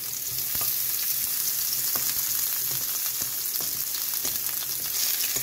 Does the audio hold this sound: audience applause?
no